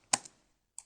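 Fingers type on a computer keyboard in a Python shell, a quick pair of close key clicks followed by a single lighter tap after a short pause, crisp and dry with no voices.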